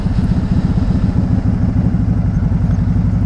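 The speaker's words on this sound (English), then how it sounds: "You can hear on these things that very distinct blipper sound when they downshift." Can-Am Spyder ST-S engine running close by with a loud, lumpy rhythmic throb, its pulsing beat steady throughout with no voices over it.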